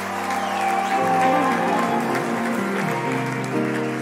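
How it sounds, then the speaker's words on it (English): A church congregation claps along through a worship song at a Monday night service, steady and sustained beneath music with sung or held tones. "Come on, clap your hands for Jesus all across the room."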